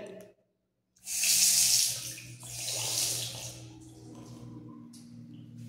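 Water runs from a bathroom sink tap during cleaning, a strong splashing rush that starts abruptly, ebbs, surges again and then settles to a quieter trickle, heard alone without talk.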